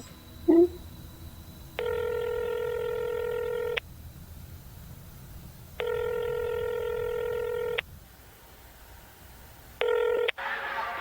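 A phone in a horror video game rings out on the line in three steady, loud electronic tones of about two seconds each with quiet gaps between them, after a brief blip at the start.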